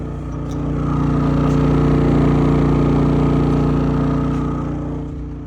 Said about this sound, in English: I have a Champion 4800 generator running.